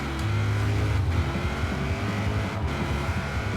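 Ordinary road cars launching hard side by side in a Forza 4 drag race, a steady loud engine roar with rising pitch as they accelerate, continuous through the run.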